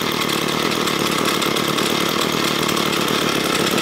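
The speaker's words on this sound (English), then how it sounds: "Engine is running pretty good, but we're gonna try to adjust the idle screw first." A small two- or four-stroke engine with a clogged carburetor idles close by, its rough, buzzy drone holding steady and loud throughout with no voices.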